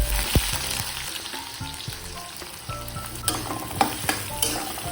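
Garam masala and bay leaf sizzle in hot oil in an old kadai, a steady close crackle with a few sharp clinks of utensil against the pan, no voices.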